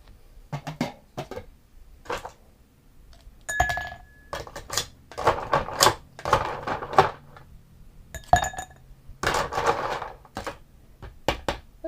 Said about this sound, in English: we're going to have to stir it again.